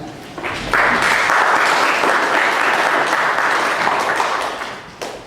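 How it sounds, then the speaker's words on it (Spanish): An audience in a lecture hall bursts into applause, a dense steady wash of clapping that starts suddenly, holds for several seconds and fades near the end. "Por favor, un fuerte aplauso."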